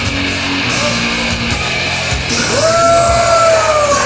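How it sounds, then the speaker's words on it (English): A wrestler's entrance scream rings out loud and drawn out over a roaring arena crowd at a death match, the yell rising and holding above the steady crowd noise. "that wicked scream can only mean one thing"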